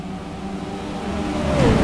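Race car engines in a sim racing game at Charlotte Speedway roar steadily, a car engine note rising as it accelerates toward the end, loud and continuous with no talk.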